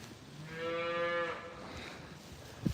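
A heifer on a farm gives one drawn-out, fairly near moo, steady in pitch and lasting about a second, over soft outdoor background noise, with no talk.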